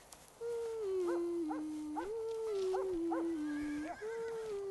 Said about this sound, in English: Isn't that your dad riding the horse?